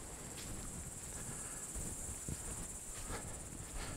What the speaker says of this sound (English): You can probably hear all the crickets.